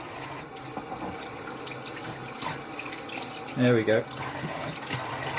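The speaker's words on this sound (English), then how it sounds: "I'm going to wash some of this dust off." Water running from a tap to rinse grinding dust off a Dovo stainless razor, a steady faint splashing flow under a man's brief speech, with a short louder vocal moment midway.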